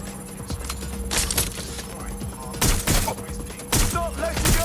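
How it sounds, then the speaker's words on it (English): Scattered gunfire in the video game Watch Dogs: Legion, a few sharp bursts of shots spaced apart with thuds and game voices between them. "Taking fire!"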